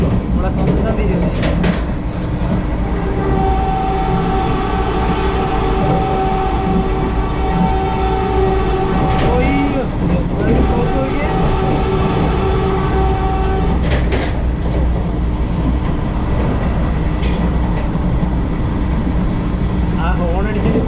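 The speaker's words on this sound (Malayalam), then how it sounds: "ആ ഹോൺ അടിച്ചിട്ട് പോകുന്നൊരു പോക്ക്." Vande Bharat Express train passing at Tirur station, a loud close rumble with clickety-clack of wheels and a long sustained horn blast in the middle, with people talking over it.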